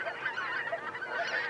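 Arctic wild geese wintering on the Lower Rhine meadows honk continuously, a dense overlapping flock chorus held at a steady, moderately loud level throughout.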